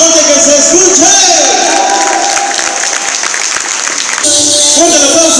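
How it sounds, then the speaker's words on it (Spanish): Loud applause at a primary school graduation, a crowd clapping with cheers and whoops, with voices shouting over the clapping. "Venga, el aplauso fuerte que se escuche."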